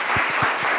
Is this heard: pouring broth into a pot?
no